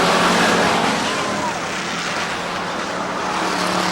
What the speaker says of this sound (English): The Moo-Mobile moving it up, Matt Hamburger in the 91 car